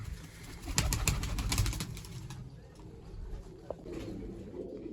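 Pigeons kept in a loft coo and rustle nearby as they are released one at a time, a soft burst of cooing and fluttering followed by quieter murmuring calls.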